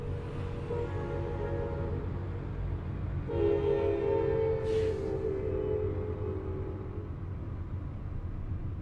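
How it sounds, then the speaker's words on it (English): A train rumbles steadily at a distance beside a traffic jam, and partway through its horn sounds a long, sustained blast over the low rolling noise. "There's a train down there"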